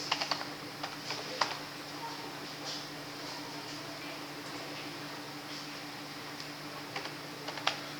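Someone typing a Node.js command on a computer keyboard: faint, scattered key clicks in short clusters at the start and end, with a quiet pause in between.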